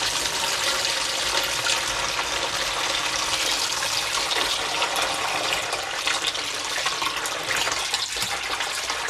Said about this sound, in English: and then refill it with tepid water